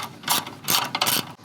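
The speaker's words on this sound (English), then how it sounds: "Now I'm gonna grab a 13mm wrench." A 13mm ratchet wrench tightens a pod light bolt on an Ironman 4x4 Raid front bumper fitted to a RAM 1500 DS, giving three close, loud bursts of rapid ratchet clicking with short pauses between them.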